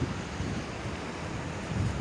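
Swollen river in Nepal rushing with a continuous broadband roar, close and steady, with no voices.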